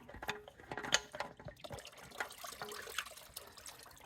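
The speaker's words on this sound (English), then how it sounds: "Make sure your catch pan is underneath because there's going to be some oil coming out." Engine oil from a 2014 Toyota Highlander trickles and dribbles into a catch pan, a faint, steady pour with small splashes and drips close by.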